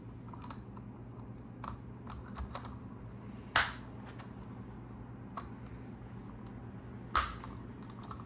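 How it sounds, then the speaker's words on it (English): Two sharp plastic snaps as linkage connectors click onto the individual throttle bodies of a BMW S54 engine, spaced a few seconds apart over faint light tapping and a steady low hum. "So now those are all snapped in and connected."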